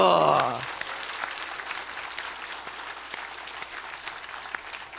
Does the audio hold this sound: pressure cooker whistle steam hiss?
no